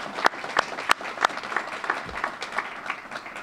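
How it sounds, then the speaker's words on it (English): A round of applause for graduates of a jail inmate culinary training program, with a few sharp, close, loud claps standing out over a thinner background of crowd clapping that gradually softens. "You deserve a round of applause"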